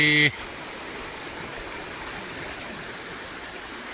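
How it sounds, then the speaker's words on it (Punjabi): A continuous broadband rush of the fast-flowing Beas River near Kishanpur, Gurdaspur, heard up close and steady, after a brief tonal beep at the very start. "ਪਾਣੀ ਬੜੀ ਤੇਜ਼ ਬਹੁਤ ਜ਼ਿਆਦਾ ਸਪੀਡ ਆ ਪਾਣੀ ਦੀ ਦੇਖੋ ਪਾਣੀ ਦੀ ਕਿੰਨੀ ਸਪੀਡ ਆ"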